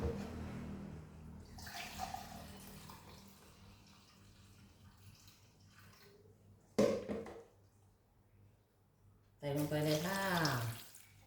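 Rice-soaking water from glutinous or ordinary rice pours into a container in a kitchen in two bursts, one short splash and then a longer gushing pour, set between quiet stretches with faint background noise.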